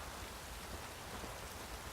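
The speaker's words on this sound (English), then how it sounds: "It is very much raining, Geralt." Rain falling in The Witcher 3 video game, a soft, even wash of patter and hiss, faint and continuous with no speech.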